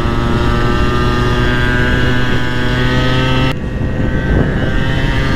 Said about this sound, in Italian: Col motore che gira così basso non rende nemmeno la velocità.